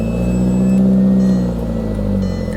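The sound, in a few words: small Toyota car engine starting up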